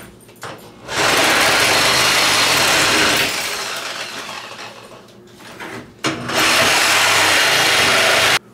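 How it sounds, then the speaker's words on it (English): Power tool cutting through the far corner of a kitchen countertop for a new sink opening, two loud sustained buzzing bursts separated by a short pause, close and alone without talk. "I'm gonna go ahead and cut this far corner"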